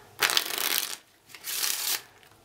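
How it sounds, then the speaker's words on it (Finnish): A deck of playing cards shuffled in two quick riffling bursts, close and crisp, with a short pause between them and no talk. "Voidaan sekoittaa vielä lisää pakkaa."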